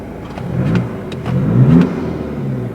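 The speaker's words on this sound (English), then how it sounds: "Let's give it a little rev." A Skoda Octavia vRS 2.0 TDi diesel fitted with a performance air filter induction kit gets two short revs close up, a rising engine note with an intake whoosh over a low idle.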